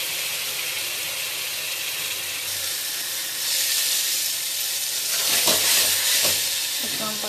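Turmeric and garlic paste sizzles and fries with browned onions in a pan, a steady hiss that swells louder toward the end as the mixture is stirred, with scraping sounds near the close.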